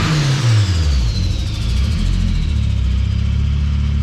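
A 1.8-litre car with a big Holset HX40 turbo revs hard, engine note climbing steadily with a loud whining turbo spool over a deep continuous rumble, close and alone.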